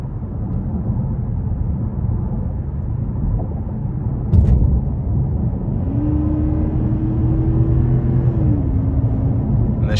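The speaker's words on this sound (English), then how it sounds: "you really don't have to give it a lot of throttle to accelerate because this is a 5-liter V8" A 2021 Genesis G90 AWD with a 5.0-liter V8 accelerates under light throttle in sport mode, giving a low, steady engine rumble with a smooth rising tone partway through and a brief knock near the middle.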